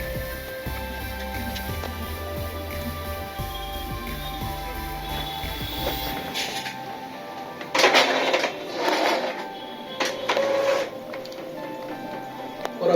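An ordinary office printer printing a PVC ID card, a steady mechanical whir and rattle running for several seconds, then a few louder rolling feed bursts as the card passes through, fairly close with no talking.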